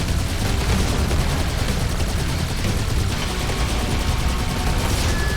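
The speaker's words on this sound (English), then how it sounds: "There's someone sniping us from behind." Gunfire from the Halo 2: Anniversary video game, a dense, continuous barrage of shots and blasts filling the whole stretch at steady loudness, with no talk over it.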